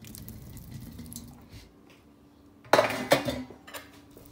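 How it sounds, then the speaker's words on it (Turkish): A spoon stirs bulgur köfte mixture with tomato paste in a bowl, giving soft scraping that ends in a few sharp, close clinks against the dish. "Ve iyice karıştırıyoruz."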